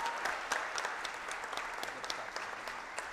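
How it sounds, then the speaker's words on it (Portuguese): Audience applause at a solemn legislative session launching a parliamentary front for therapeutic communities, steady dense clapping from a full room that sustains evenly from start to finish without any talk. "Uma salva de palmas, pode ser mais forte."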